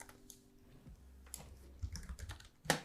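Soft, irregular clicks of typing on a computer keyboard, a few scattered keystrokes close by in a quiet room with no one speaking.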